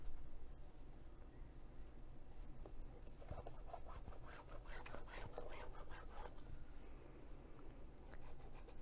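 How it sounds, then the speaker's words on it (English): A line being drawn across messenger bag material: quiet, close, scratchy rubbing strokes that swell in the middle of the clip, with no voices. "I'm going to draw a second horizontal line that's 1/2 inch below the first."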